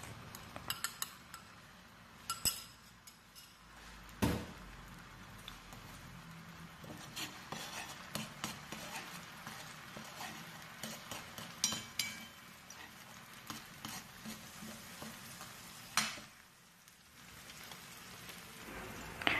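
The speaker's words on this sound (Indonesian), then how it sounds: "bumbu tambahan yang sudah dihaluskan kita tumis-tumis ya sampai harum" Ground spice paste for beef rendang fries in cooking oil, giving a continuous soft sizzle broken by frequent scrapes and knocks of a utensil stirring against the pan, with no voices.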